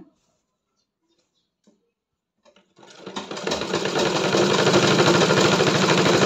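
A sewing machine runs a second line of stitching on a seam of patiala pants, starting after near silence and building into a steady, fast mechanical whir with a rapid ticking rhythm, close and loud.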